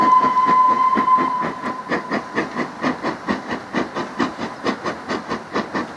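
A shunting locomotive moves wagons slowly over points on the West Coast Main Line, a steady rhythmic clatter of wheels over rail joints, preceded by a brief high whistle-like tone and hiss.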